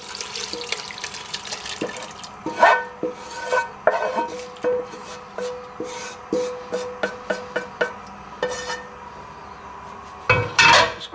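Boiled liquid for a beef stew is poured into a casserole dish, giving splashing and pouring sounds broken by repeated clinks and scrapes of cookware, close and fairly loud with no talking.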